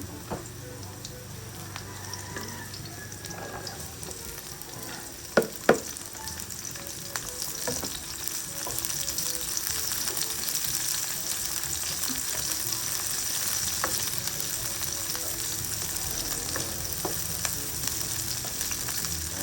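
Garlic and onion frying in a pan for a fish and squash coconut stew, a steady, dense sizzle that runs close and loud throughout, broken by two sharp metallic clinks early on.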